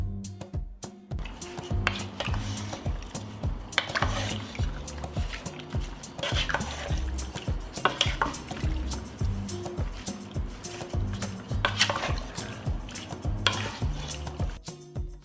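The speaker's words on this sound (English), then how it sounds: "I will stir." Plums that sat overnight stirred in a pot with a spoon, producing repeated scraping and wet squelching strokes at a steady close rhythm, with no talking.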